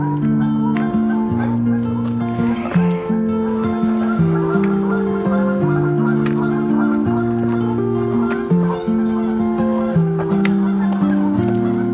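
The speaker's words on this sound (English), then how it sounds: "Geese being geese." A flock of geese honks loudly and continuously nearby at a lake, overlapping calls in a constant noisy chorus.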